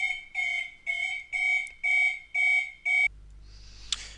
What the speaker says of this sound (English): slight interruption there with the weekly alarm